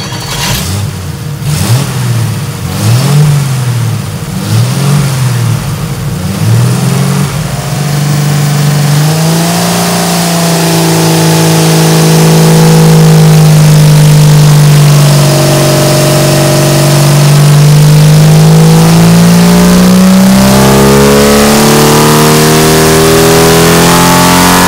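A smooth Jeep straight-six stroker engine on a dyno idles, then revs up in several quick bursts before settling into a loud, steady drone with slowly rising and falling pitch.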